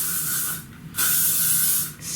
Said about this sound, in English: spray it and just leave it alone until it completely cools down